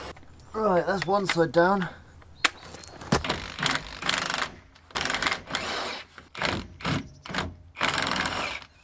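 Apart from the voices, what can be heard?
ratchet with 19 mm socket undoing van leaf spring bolts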